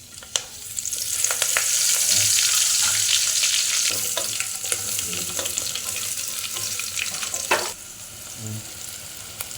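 Mustard seeds and curry leaves fry in hot oil for a chicken curry, giving a loud, close, continuous sizzle with light stirring scrapes and a few clinks. There is no talk over the frying.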